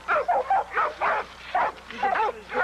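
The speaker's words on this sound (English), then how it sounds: "This dog is ready to go." Dog barking at PowerHouse Kennel's yard, a lean dog in conditioned weight: a run of repeated close barks in an uneven rhythm, about seven or eight over a few seconds, loud and alone.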